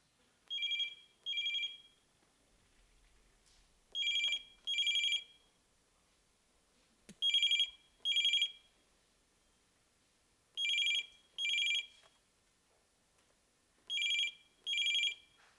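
A landline telephone rings unanswered in a home, close and clear, sounding in paired double rings repeated five times with short silences between, no one speaking.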